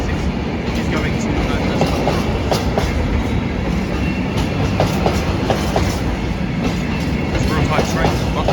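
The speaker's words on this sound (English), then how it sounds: "we'll find out where this Freightliner Class 66 is going to" A Freightliner Class 66 freight train passes on the Great Western main line at Acton. Its heavy, steady rumble fills the whole stretch, with a rhythmic clickety-clack of wagon wheels over rail joints.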